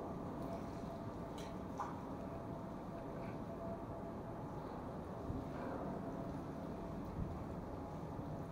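Strong wind buffets a small fishing boat out at sea, a steady low roaring rumble with occasional gusty bumps and no speech.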